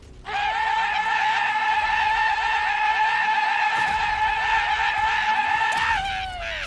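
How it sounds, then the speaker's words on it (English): A video game gun called the Bane lets out a loud, sustained, warbling human-like scream when fired, holding one shrill wavering pitch for several seconds before it slides down and cuts off. "it's actually just a gun that screams at the top of its lungs when you shoot a projectile"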